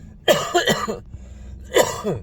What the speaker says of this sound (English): Oh goodness, I got a cough.